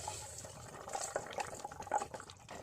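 Prepared rice for a Tamil khuska biryani-style dish tipped into a pot of boiling water, giving soft watery splashes and bubbling at low volume with a few brief louder plops, no speech.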